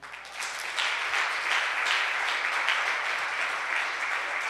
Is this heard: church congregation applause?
yes